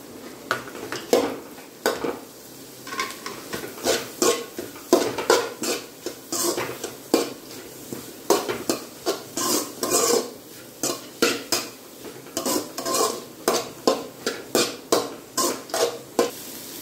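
Capsicum strips, lightly salted, are stir-fried in a pan. A spatula scrapes and clatters against the metal in a quick, irregular rhythm, with a soft sizzle underneath at close range.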